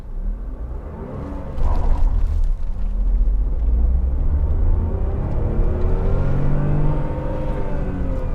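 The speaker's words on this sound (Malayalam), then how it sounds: "5500 RPM വണ്ടി റെഡ് ലൈൻ ചെയ്തത്. അപ്പോൾ ഇതൊരു ടർബോ പെട്രോൾ എഞ്ചിനാണ്." A Tata Nexon turbo petrol car engine (2020) revs up hard to its 5500 RPM redline and holds a high, strained drone, rising in pitch as it accelerates, loud and close with a low rumble underneath.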